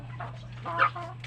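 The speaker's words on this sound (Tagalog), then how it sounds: "yung patuka ng mga manok natin" Chickens cluck softly nearby in short, scattered calls over a steady low electrical hum.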